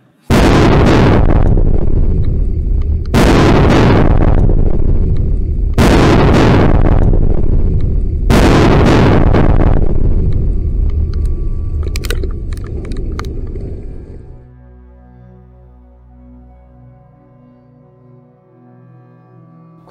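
Four huge booming demolition blasts roll out in succession, each thundering and echoing, followed by a long rumbling structure collapse that fades into quiet outdoor ambience.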